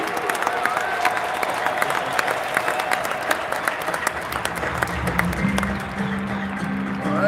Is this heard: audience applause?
yes